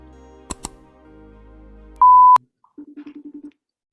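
A phone chimes for an incoming FaceTime call: two faint clicks, then a loud sustained electronic tone followed by a quick run of seven short beeps.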